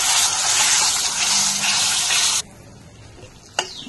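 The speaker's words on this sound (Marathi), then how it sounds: "थोडं पाणी घालून घेते" Water is poured into a pan of frying masala for a Khandeshi brinjal curry, a steady rushing splash that lasts about two seconds and then stops abruptly, leaving a quiet background with a small clink.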